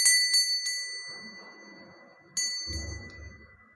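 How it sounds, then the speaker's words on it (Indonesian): A bright bell rings with several quick strikes, its tone ringing out and fading, then a second strike rings again before trailing off. "saya akan meramalkan dengan ditandai lonceng berbunyi"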